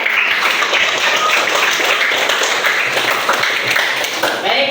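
Students in a classroom applaud together, a dense continuous patter of hand claps mixed with some voices, fairly loud and steady throughout.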